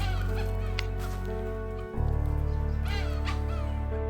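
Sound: wild junglefowl calling

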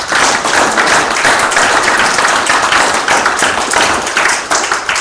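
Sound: congregation clapping hands

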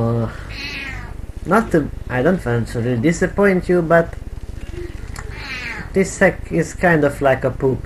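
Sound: cat meowing

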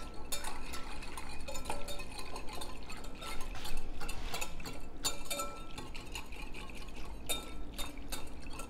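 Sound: stirring gelatin mixture to dissolve powder

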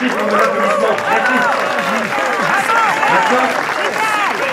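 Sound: applause

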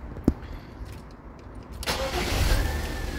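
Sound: car engine starting

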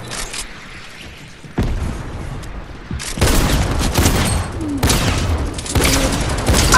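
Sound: gunfire in Fortnite video game

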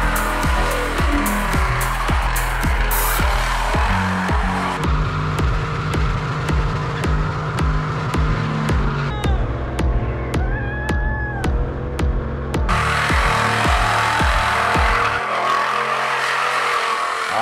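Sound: Buick Electra station wagon doing a burnout, tire squeal

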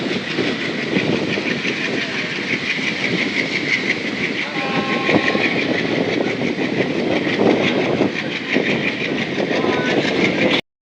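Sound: train 15767 Siliguri–Alipurduar departing New Mal Junction

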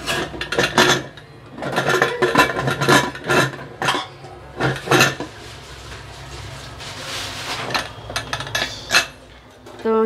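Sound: closing the lid of a pressure cooker

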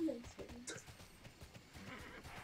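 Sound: horse neighing in video game Tera

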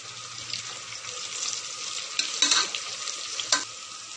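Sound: kasuri methi frying and stirred in pan

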